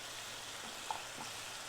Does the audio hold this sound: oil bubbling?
yes